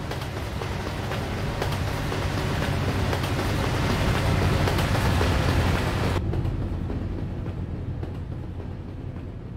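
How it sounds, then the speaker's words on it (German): Long trains rumbling past in Euro Truck Simulator 2 in Hungary, a steady dense roar that holds for about six seconds before the high hiss drops away and a lower rumble continues, with no talking. "die Züge hier sind länger"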